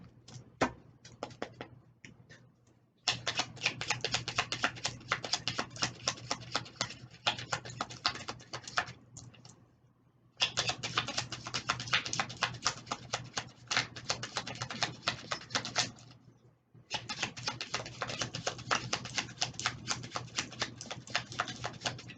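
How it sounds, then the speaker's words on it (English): Cards are shuffled in long bursts of rapid, close papery flicking and riffling, separated by brief pauses. "the sound of shuffling"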